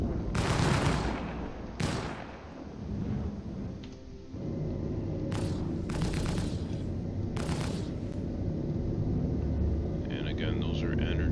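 Size 4 energy weapons fire from an Origin 400i ship in the space game Star Citizen, with several sharp zapping bursts over a steady low engine hum, the shots spaced a second or two apart.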